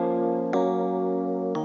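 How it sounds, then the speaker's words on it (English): An electric piano plays sustained, smooth chords in a chill house drop, the chord shifting twice across the passage at an even, steady loudness. "electric piano."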